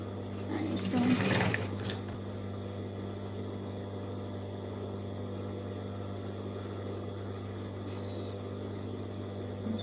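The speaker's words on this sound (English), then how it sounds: "I'm stitching the right sides together" A sewing machine hums steadily and close while stitching the right sides of a jeans bag together, with a brief louder rustle of handling near the start and an even motor drone throughout.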